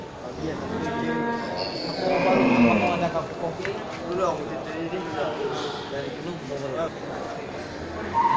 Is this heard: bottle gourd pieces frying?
no